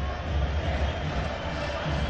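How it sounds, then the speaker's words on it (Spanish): A stadium crowd at a Chilean league football match between Católica and Everton roars and applauds a player. The broad, continuous wash of crowd noise sounds distant and steady. "Por eso los aplausos merecidos para un jugador lleno de calidad"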